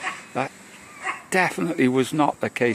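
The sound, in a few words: dogs barking nearby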